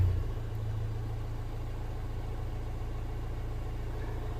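A 2015 Vauxhall Vivaro 1.6 CDTi diesel van engine that cuts out at 3000 rpm drones steadily at a low, even pitch, close and moderately quiet, with a brief louder surge at the start and no voices.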